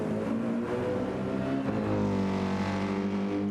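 Several race cars in a racing video game league race, late in the final laps, roar continuously at close range with layered engine tones rising and shifting as they chase each other, steady and loud with no talking.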